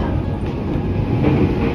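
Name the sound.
Chuo Line rapid train running on the rails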